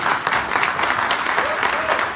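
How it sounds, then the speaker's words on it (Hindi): A hall audience claps loudly and steadily for Mr. Yogesh at a Safeshop business meeting, a dense, sustained round of applause with no pauses. "मैं चाहूंगा मिस्टर योगेश सर के लिए एक जोरदार ताली होनी चाहिए दिल से"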